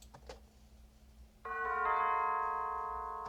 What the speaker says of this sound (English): Now we're gonna go into these bells.